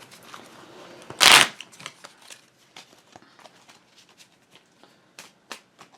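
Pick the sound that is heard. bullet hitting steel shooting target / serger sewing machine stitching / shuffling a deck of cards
shuffling a deck of cards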